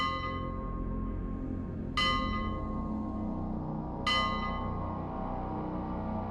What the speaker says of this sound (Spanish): Sin embargo, las campanas se escuchaban detrás.